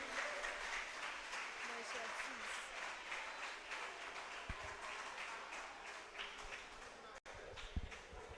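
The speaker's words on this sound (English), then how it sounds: "Please clap for them." Audience clapping at a national championship quarter-final event sounds as a steady, fairly soft patter of many hands, continuing throughout with a couple of brief knocks near the end.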